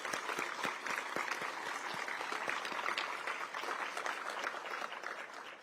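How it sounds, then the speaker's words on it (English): Applause from a crowd at a groundbreaking ceremony for the Long Bridge rail project, steady dense clapping with sharp individual claps, sustained for several seconds before tapering slightly at the end. "So just a round of applause for that."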